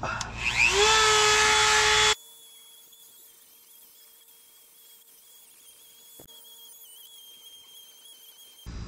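A power tool with a metal cutting bit whines up to speed and grinds loudly on metal during a differential drop install on a RAM TRX, then cuts off abruptly, leaving a quiet shop hum with a faint tonal whine.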